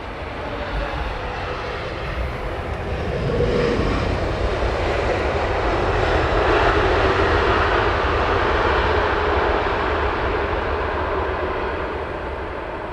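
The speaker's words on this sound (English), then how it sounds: "Yes, Air India, Dreamliner." An Air India Boeing Dreamliner comes in to land on runway 27R at Heathrow Airport, its jet engines building to a broad, sustained roar that swells midway and then eases, heard from outside the airfield with no talk over it.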